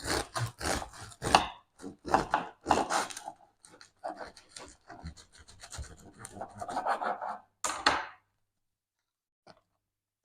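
A knife saws through a crusty loaf of homemade yeast-free sourdough bread, giving a series of close, crunchy rasping strokes that stop abruptly near the end.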